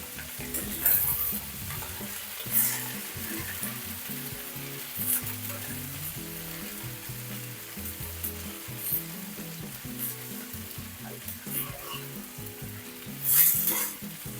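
Long beans frying in a pan for a stir-fry, a continuous sizzle under repeated scraping and clattering strokes of a spoon stirring, with a few louder bursts of oil crackle.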